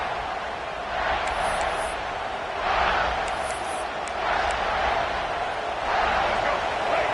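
A steady roar of Michigan Wolverines stadium crowd noise in the College Football 27 video game, second quarter, swelling and ebbing in waves, with faint high whistles drifting over the constant din.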